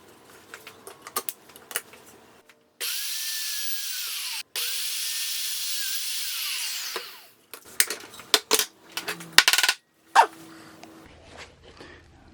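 A power drill bores holes in wood set up with stop blocks, one long steady whining run followed by shorter bursts and clunks as pieces are handled nearby.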